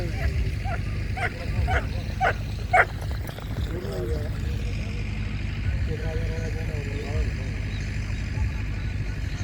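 Greyhounds bark and yip at a dog race, several sharp barks in a quick cluster early on, then quieter whines, with people talking and crowd noise throughout.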